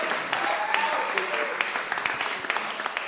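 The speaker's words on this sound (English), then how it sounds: "Let's give him a round of applause." A church congregation at a Sunday service claps for a pastor, dense applause with distinct individual claps standing out and a few voices mixed in.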